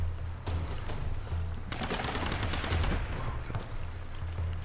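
Enemy gunfire in Tomb Raider rattles in fast, dense bursts, loud and sustained over a low rumbling game backdrop, with no talk over it.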